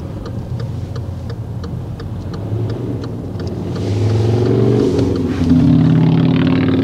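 A Jeep pulling away quickly on a road during a driving lesson, its engine rising steadily in pitch and loudness as it accelerates off nearby, with a faint regular ticking running through it.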